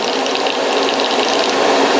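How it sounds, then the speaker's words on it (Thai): Air bubbling and gurgling steadily through the paint cup of an airbrush being back-flushed with the nozzle blocked, a continuous close hiss and fizz of bubbles with no pauses. "ให้เอามืออุด กดไกลค้าง นะครับ แล้วก็ง้างไปที่หลัง เราจะเห็นฟองอากาศผุดอยู่นะครับป๊อกป๊อกป๊อกป๊อกนี่นะฮะ"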